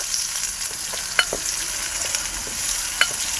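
Chopped onions sautéing and being stirred in a hot pan, a close continuous sizzle with a few sharp clicks and scrapes of the spoon, no voices.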